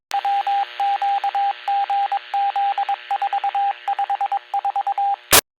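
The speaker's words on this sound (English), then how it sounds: "there's this loud beeping noise. It's like Morse code and it lasts like 7 or 8 seconds." A radio that sounds for every 911 call emits loud, steady tone beeps in short and long bursts like Morse code, repeating for several seconds before a sharp click ends it.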